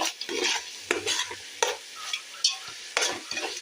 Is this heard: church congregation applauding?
no